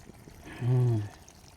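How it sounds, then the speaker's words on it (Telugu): A short splash of water poured into a pot of country chicken curry, about half a second long with a hollow, ringing tone, alone in a quiet room. "నీళ్ళు అయితే పోస్తున్నాం దీంట్లోని"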